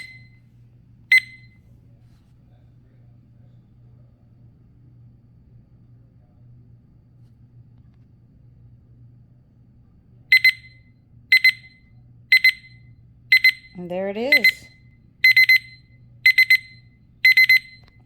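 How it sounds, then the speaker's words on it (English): A single electronic beep sounds, then after a long quiet hum a digital kitchen timer set for 10 seconds beeps repeatedly in evenly spaced pulses, with a brief spoken remark among them. "there's going to be a beeping sound to let you know when it's done"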